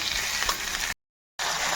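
Potatoes, peas and tomatoes frying in a pan, a close, steady sizzle that cuts off briefly to silence and then resumes.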